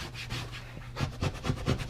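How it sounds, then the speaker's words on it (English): A fabric-edged squeegee rubs a vinyl decal onto the rear side window of a Toyota 4Runner, close soft scraping strokes in a quick repeating rhythm. "I got the fabric side of the squeegee"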